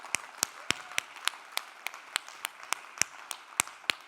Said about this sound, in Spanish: Yo quiero que usted le dé un aplauso.